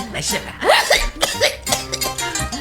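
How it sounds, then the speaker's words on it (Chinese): In a scene from the film Hail the Judge, a man coughs hard several times in quick bursts, close by, followed by a short exchange of speech. "那人咳得很厉害"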